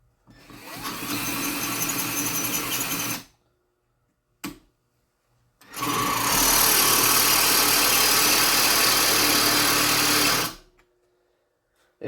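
Power drill with a set of drill bits boring into hard material during a Camaro SS LSA supercharger installation, two sustained loud whirring runs of about three and five seconds separated by a short pause and a brief burst.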